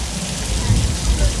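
Simulated heavy rainstorm with thunder on a studio tour ride, loud steady rain pounding surfaces with a deep rumbling underneath, dense and close.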